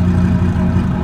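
Audi R8 V10 biturbo tuned to about 1000 hp accelerating hard, a loud, steady, dense engine roar heard from close by throughout.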